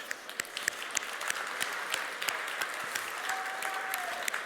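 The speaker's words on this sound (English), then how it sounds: "we can have a huge round of applause, both for the organizers, but all of you lot" Audience applause at a Databricks keynote, a dense wash of many hands clapping that holds steady throughout, fairly distant and even, with a faint tone sliding in near the end.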